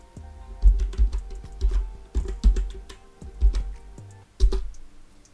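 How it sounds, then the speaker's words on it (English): Computer keyboard keys tapped close up while a password is typed to log in to OSPOS point of sale software, uneven bursts of clacking keystrokes with short pauses, over a faint steady electrical hum. "So I'm just logging in now. So type my password."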